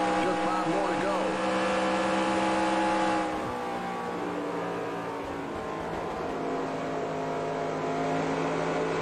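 A NASCAR stock car in the NASCAR Racing 2003 sim at Atlanta roars steadily at high revs, a loud sustained engine drone with a shift in pitch partway through; someone talks over it.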